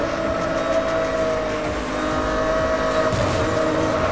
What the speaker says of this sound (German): Nur deswegen fahre ich gegen die Wand